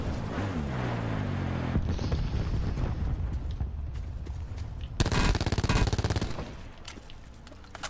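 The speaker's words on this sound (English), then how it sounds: "Sounds like there's fighting going on out of bounds or near the boundary point" Gunfire in the battle royale game Call of Duty Black Ops 4 Blackout: loud bursts of rapid automatic fire, with a dense spell of machine-gun shots midway, and no talk over it.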